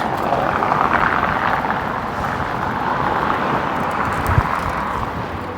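Strong wind rushes over the microphone while cycling along the Lower Don Trail in Toronto, a loud, steady roar that goes on throughout with no talking.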